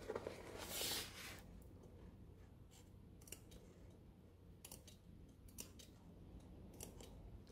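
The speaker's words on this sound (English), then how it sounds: "in each little corner, and we're talking just ridiculously small snips, just so we can kind of stretch it out in a curve." Small scissors make a few tiny snips into the corners of fabric for a toiletry bag, quiet close-up clicks spread across a faint room background, with one louder rustle near the start.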